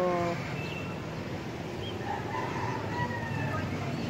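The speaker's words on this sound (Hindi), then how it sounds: "ये मेरे कबूतर हैं और ये मेरी मुर्गियाँ हैं।" Chickens cluck and crow nearby, a rooster's call rising over steady outdoor background noise.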